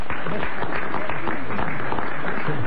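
Dense applause from a French radio show's studio audience fills the clip, steady and fairly loud throughout with no voices on top.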